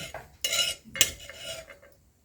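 Roasted coconut is scraped out of a pan with a metal utensil: a few sharp scrapes and clinks, close and moderately loud, with short pauses between strokes and no talking.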